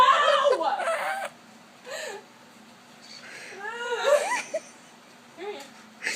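A pet bird lets out harsh, raspy squawks, a long burst at the start and another a few seconds later, close and loud, while people talk and laugh nearby.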